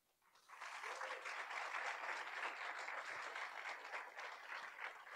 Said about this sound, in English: I want to give one last round of applause for Caroline